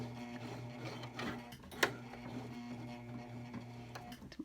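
Domestic sewing machine stitching a cloth face mask with elastic, a steady low motor hum with rhythmic needle clatter running continuously, one sharper click midway.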